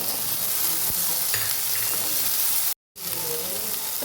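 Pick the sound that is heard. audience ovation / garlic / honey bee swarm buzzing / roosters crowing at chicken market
garlic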